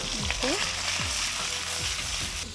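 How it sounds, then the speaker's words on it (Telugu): Raw prawns dropped into hot oil give a steady, close sizzle that fills the whole short stretch, with a few faint scraping or chirping sounds over the constant hiss. "సో రొయ్యలు చక్కగా నూనెలో వేసుకొని"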